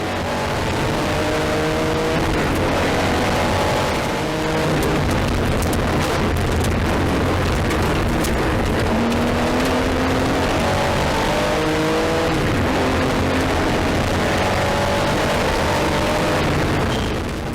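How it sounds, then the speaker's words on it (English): Historic rally cars, including a Volvo PV544S, race on a stage rally, with engines revving and passing loudly in a continuous roar and rising gear-change sweeps throughout. "Fastest in Class B4 was Nels Bergquist in the Volvo PV544S."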